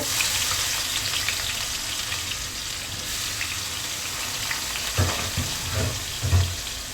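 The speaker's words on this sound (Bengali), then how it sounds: "এই তো কড়াইতে তেল দিয়ে দিলাম, এখন এই যে পেঁয়াজ কুচিগুলো দিয়ে দিব।" Chopped onions fry in oil in a wok, a steady, close hiss of sizzling throughout, with a few soft knocks of stirring toward the end.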